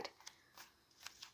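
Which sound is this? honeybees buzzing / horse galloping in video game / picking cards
picking cards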